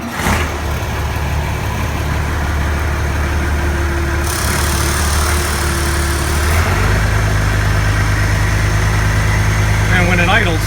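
A piece of equipment that has sat unused for many days cranks and fires, then settles into a loud, steady mid-pitched idle close by, its tone shifting partway through as the engine catches and smooths out.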